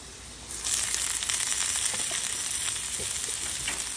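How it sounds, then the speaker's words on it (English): Onions hit hot oil on a Blackstone griddle and break into a steady, bright sizzle that holds loud and close, with faint scraping and ticking beneath it. "I'm gonna put a little bit of oil over here in the corner for the onions."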